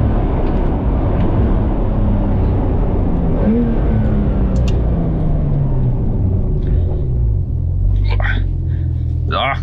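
A Porsche 911 992 Carrera 4S carving through a hairpin at speed, a deep, continuous engine rumble whose pitch sweeps down and back up, heard from inside with road and wind noise and a few faint clicks.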